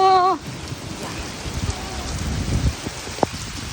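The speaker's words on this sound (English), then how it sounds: "And it's been raining like this on and" Heavy rain falling steadily outside, a dense hiss with scattered drops and taps, and a brief voice at the start.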